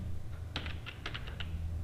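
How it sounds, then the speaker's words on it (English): Java code is typed on a computer keyboard as a quick burst of about seven crisp keystroke clicks, close but quiet, over a low steady room hum. "Then we are going to type"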